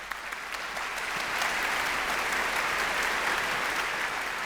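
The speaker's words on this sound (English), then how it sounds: "they were just clapping to make them shut up" Audience applause at a live debate on artificial intelligence, a dense sustained clapping from a large crowd that swells after the first second and holds steady and loud to the end, with no voices over it.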